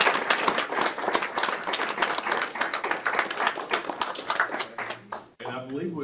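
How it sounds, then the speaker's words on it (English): Dense, lively audience applause fills a city council meeting chamber in Columbia, Tennessee, with rapid overlapping claps for several seconds before cutting off, followed by a person beginning to speak. "let's give them a round of applause"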